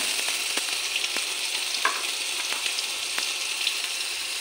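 Spice paste of ground coriander, green chilli paste and onion paste fries in hot oil with a steady sizzle, broken by repeated scraping stirs of a spoon against the pan, no talking.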